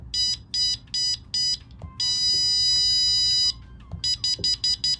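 A skydiving audible altimeter's electronic alarm beeps in rapid bursts, then a long sustained tone, then more quick repeated beeps, bright and close.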